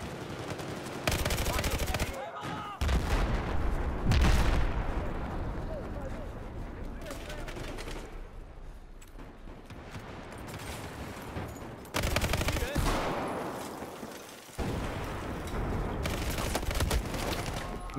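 A-91 assault rifle fire in a first-person shooter, with bursts of automatic gunfire and explosions coming in several loud, dense stretches separated by quieter gaps, plus a scattering of distant battle noise.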